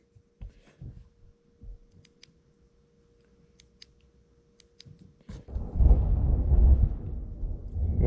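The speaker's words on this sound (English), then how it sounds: "There's some massive thunder outside." Thunder outdoors heard from inside a room, a deep rumble that rises suddenly midway and rolls on loudly to the end, after quieter faint clicks and a low hum.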